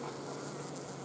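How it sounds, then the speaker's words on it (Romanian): A honey bee moves agitatedly inside a hive, giving a close, steady buzzing hum with a brief louder burst at the end. "iată cum albina se mișcă destul de agitat"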